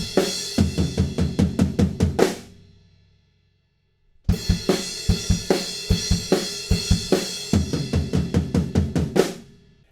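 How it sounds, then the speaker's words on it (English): Drum build-up played on the toms in a rock song, a rapid run of loud tom hits that cuts to silence for about two seconds before a second dense run of hits resumes, with no talking. "the build up is just on the toms, and it sounds like this."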